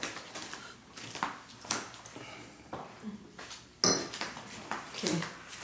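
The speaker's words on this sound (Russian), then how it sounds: "я разогреваю сковородку" A frying pan is handled on the stove as it heats while cooking chicken rolls, with scattered metallic clanks and clatter of pan and utensils, and some talking nearby.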